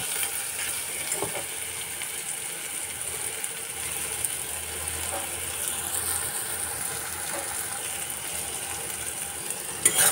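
Eggplant frying in a pan with dry chili powder, a steady close sizzle with occasional stirring scrapes and clicks, no voices.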